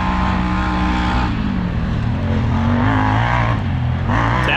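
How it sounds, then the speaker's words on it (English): Honda Talon 1000R side-by-side rounding a tight downhill hairpin, its engine droning loud and steady close by, pitch dipping then climbing as it powers through the corner. "Talon goes around that tight corner real well"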